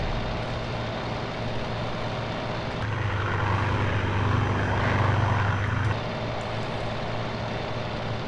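Steady propeller drone of a Macchi 205 fighter's engine in the flight combat game IL-2 1946, a loud continuous roar that swells a little in the middle before settling back to the same even hum.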